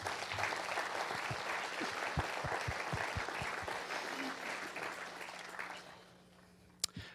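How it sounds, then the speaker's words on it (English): A congregation applauds at a Thanksgiving Eve service, sustained clapping that gradually thins and fades toward the end, with a sharp knock near the close. "please join me in giving us all a round of applause"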